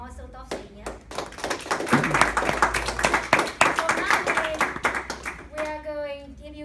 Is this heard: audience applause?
yes